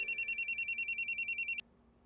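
A telephone ringing in a rapid electronic trill, clear and fairly close, then cutting off abruptly into quiet.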